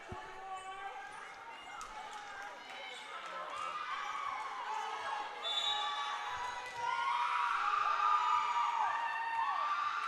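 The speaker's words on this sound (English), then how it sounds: "Crowd really getting into this one" Crowd noise at a women's college volleyball match between Middle Georgia State and Point University: steady cheering and shouting from a gym crowd, swelling louder near the end, with a commentator talking over it.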